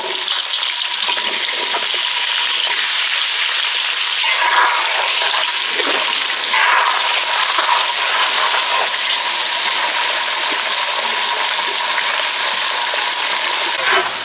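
Potatoes fry in a generous amount of oil, producing a loud, continuous bubbling sizzle with occasional stirring scrapes, close and steady throughout with no talking.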